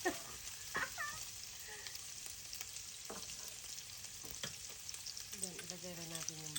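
Onion frying in a pan for pinakbet, a quiet continuous sizzle with scattered crackles and a few stirring scrapes, heard faint and alone without speech.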